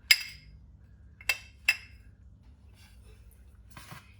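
A spoon stirring semolina and flour in a bowl, a few sharp clinks of metal against the bowl spaced apart, near and distinct against a quiet background.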